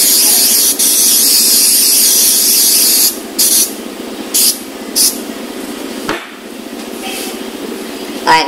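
Cooking spray hisses onto a big baking pan for guava pastries, a loud, close continuous spray lasting about three seconds, followed by several shorter bursts.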